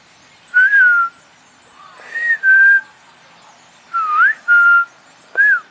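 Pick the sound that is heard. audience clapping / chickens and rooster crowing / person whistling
person whistling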